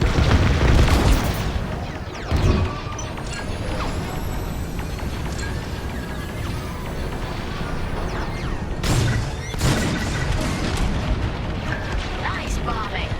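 TIE bomber bombs explode in Star Wars Squadrons, several heavy booms landing at intervals over a constant roaring engine and battle din, with a person talking over the action.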